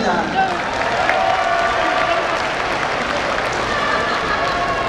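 An audience at a Korean school writing-contest ceremony applauds in a steady, dense wash of clapping with crowd murmur and voices over it.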